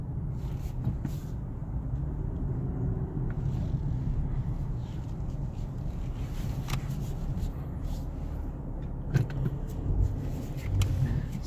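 A 2018 Nissan 370Z Sport Tech drives along, its steady low engine and road rumble heard from inside the cabin with some wind noise, no voices.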